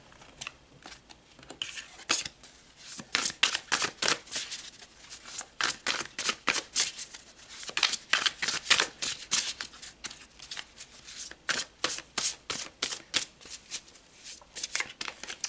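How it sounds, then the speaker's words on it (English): Tarot cards shuffled by hand in a long run of crisp riffling bursts and soft flutters, steady and close, with no talking. "let's pull some more cards"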